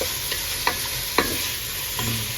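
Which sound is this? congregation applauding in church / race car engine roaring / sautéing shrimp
sautéing shrimp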